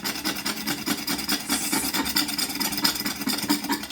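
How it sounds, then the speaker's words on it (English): Steady rasping scrape of a scraper drawn over a dirty ceramic glass hob stovetop, close and fairly quiet, repeated strokes without talk. "you can see as I scrape off the dirt, the white lines keep appearing"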